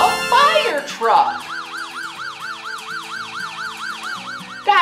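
A fire truck siren wails loudly and close by in a fast, steady up-and-down pattern, with a short lower rising tone at the start and again at the end.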